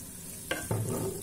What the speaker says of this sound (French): Je vais mélanger tout ça et je vais laisser cuire encore 5 minutes